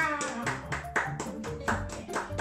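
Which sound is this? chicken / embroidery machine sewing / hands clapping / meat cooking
hands clapping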